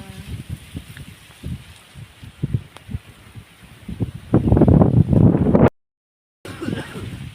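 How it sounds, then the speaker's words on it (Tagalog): Strong gusty wind on a mountain buffets the microphone in rough, uneven bursts, growing stronger and louder near the end before cutting out briefly. "Malakas yung hangin dito sa bundok."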